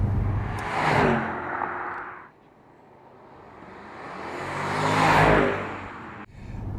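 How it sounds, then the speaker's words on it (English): A Porsche Panamera's engine revs through flared exhaust outlets, swelling in two loud surges separated by a quieter lull, with a deep rumble beneath and a rushing whoosh at each peak; no talking. "it's got 2 beautiful flared out exhaust notes, and that gives you a sound system you really want in a Porsche"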